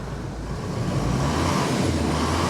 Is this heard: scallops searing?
no